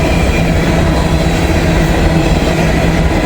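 An empty grain train rolls past close by, a loud steady rumble of railcars with rhythmic wheel clatter and faint squeal, heard alone amid gusty outdoor wind.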